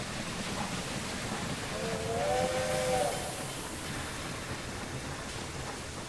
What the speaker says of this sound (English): The train has arrived and is being unloaded